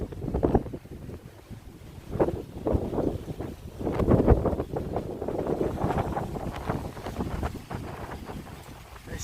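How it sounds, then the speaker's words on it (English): Strong gusting wind in north central Oklahoma roars across the microphone in surging low rumbles, rising and falling in loud buffeting waves throughout, with no voices. "They still got the wind"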